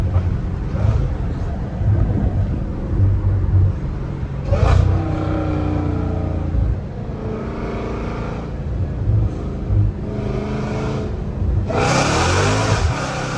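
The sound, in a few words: Dodge Challenger Hellcat Redeye engine revving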